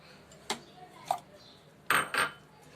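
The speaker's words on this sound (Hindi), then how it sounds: "अब मैं बादाम शामिल करने लगी हूं" Four sharp clinks and clatters of almonds dropping into a blender jar, spaced irregularly, the last two close together.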